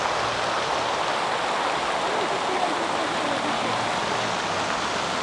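Water splashing steadily in a city fountain in central Luhansk, a continuous even hiss of falling water heard close and alone, with a faint low hum underneath.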